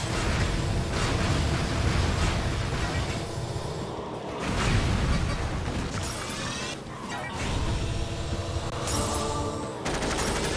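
Grenade blasts and weapon fire in the vehicle combat racer Jak X: Combat Racing, loud crashing bursts that keep coming with short gaps, mixed with engine noise and game sounds.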